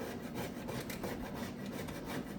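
Whole nutmeg is rubbed over a grater, producing a steady, close, rasping scrape with quick repeated strokes and no talk.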